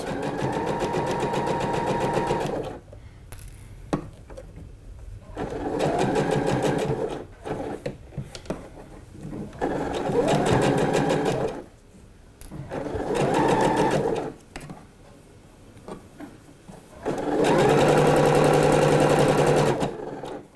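A sewing machine stitches fabric for a dress, running in several close bursts of steady whirring separated by short pauses and handling noise.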